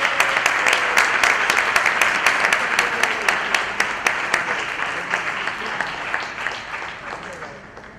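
An audience at a regional summit's valedictory session applauds a second-prize winner, steady sustained clapping at moderate distance that slowly tapers over several seconds.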